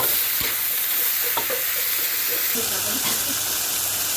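Eggplant stir-fries with oyster sauce in a pan, a close, steady sizzle broken by sharp scraping and tossing strokes of the spatula.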